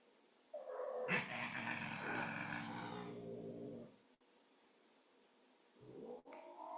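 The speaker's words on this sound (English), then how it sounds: "I hear two cats" Two cats yowl and caterwaul at each other nearby in a long, rising and wavering cry of several seconds, then quiet before a brief second yowl starts.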